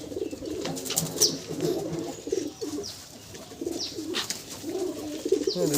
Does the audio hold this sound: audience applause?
no